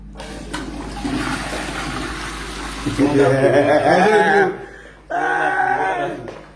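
A toilet flushes in a hotel apartment bathroom, a loud rushing surge of water that swells, drops away, then surges again as the tank refills, with people talking over the start.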